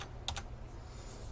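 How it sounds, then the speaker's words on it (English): Brief computer keyboard typing while entering a spreadsheet label, a couple of faint quick key clicks over a low steady background hum. "I'm going to type in sales tax."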